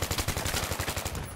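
Rapid automatic gunfire in the video game Battlefield 3, with a steady rattling string of loud, evenly spaced shots filling the whole moment.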